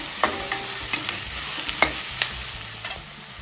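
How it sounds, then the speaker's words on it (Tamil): Capsicum sautés in a pan with a soft, steady sizzle, broken by several clicking taps as a spatula stirs and scrapes, close and fairly quiet. "குடமிளகா கொஞ்சம் வதங்கி எடுத்துக்கிறோம். கொஞ்சம் வதங்கட்டும்."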